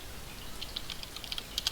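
Typing on a computer keyboard while entering a search into a Firefox browser, a quick irregular run of soft key clicks over faint room noise, getting a bit louder toward the end.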